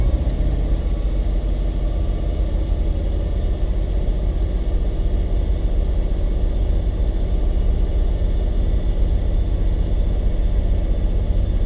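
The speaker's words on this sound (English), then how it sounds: "I'll start the engine." A car engine idling steadily at about 1800 RPM after a start, a loud continuous low rumble close to the listener with no voices.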